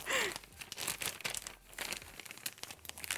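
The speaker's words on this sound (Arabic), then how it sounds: "افتح يا كيس" A plastic piping bag is pulled open for whipped Chantilly cream during pancake and pomegranate yogurt jar prep, giving close, loud, continuous crinkling and rustling with sharp bursts throughout.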